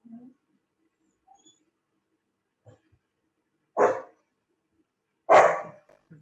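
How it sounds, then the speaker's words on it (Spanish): Dog barking during an online class discussion, two loud single barks a second and a half apart, with faint indistinct background sounds between them. "El que ladra el perro, no yo"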